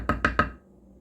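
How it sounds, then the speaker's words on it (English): A spatula knocks three quick times against the baking dish while scooping out a creamy ravioli bake, each tap sharp and close, then quiet. "Let me use my spatula."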